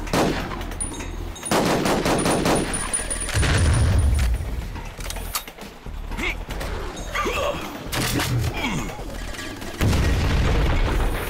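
Pistol shots in Duke Nukem: Manhattan Project come in bursts of loud, sharp gunfire over a busy game soundtrack, with deep booms and mechanical clatter between the volleys.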